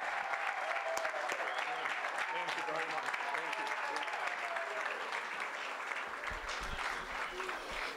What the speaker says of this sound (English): Let's give a big round of applause for Coach Matt Durgan.